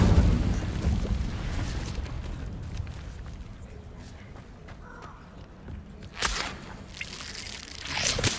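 A fire spell cast in the Hogwarts Legacy video game erupts in a sudden bright whooshing flare near the end, rising out of a low rumbling, crunchy ambient bed.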